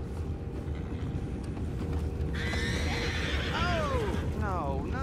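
Horses whinny in the Red Dead Redemption 2 video game, several rising and falling neighs in the second half over a constant rumbling background, with a voice talking.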